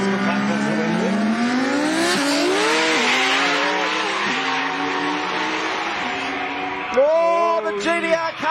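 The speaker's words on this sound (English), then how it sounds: "That was a half-track burnout. Yeah, just driving through the wheel spin." A race car at the World Time Attack Challenge revs hard through wheel spin, its engine pitch climbing and falling in loud close sweeps, with a sharp burst of revving near the end and a commentator speaking over it.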